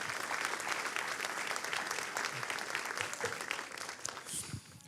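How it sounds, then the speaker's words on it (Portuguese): Applause from a Portuguese-speaking church congregation, clapping for Jesus during a service led by a bishop: a dense, continuous burst of hand clapping lasting about five seconds, steady and moderately loud. "Você pode dar mais uma salva de palmas a Jesus?"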